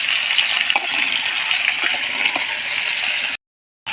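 About three kilograms of mango pieces being stirred in a pan give a continuous wet, sizzling hiss with soft scraping knocks, close and steady, cut off by a brief silence near the end.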